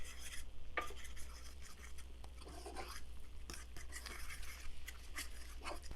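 Quiet scraping and stirring as flour is mixed into melted butter in a pot to make a roux for tomato basil soup, with soft repeated strokes and faint sizzle, close and without talk.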